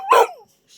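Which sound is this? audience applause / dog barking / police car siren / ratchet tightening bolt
dog barking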